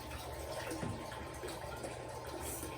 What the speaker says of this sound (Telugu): ఇది వాటర్ ఇది. సో దీన్ని నేను ఫిల్ చేస్తున్నాను.